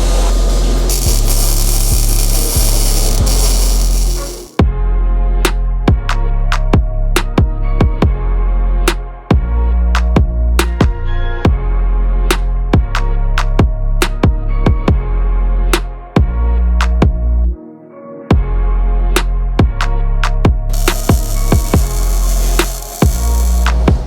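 A sway bar mount is welded onto a 1000HP VQ 350Z, with steady hissing bursts at the start and end around stretches of sharp crackling pops and brief pauses, loud and close.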